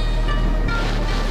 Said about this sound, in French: il y a comme qu'il y a un peu de vent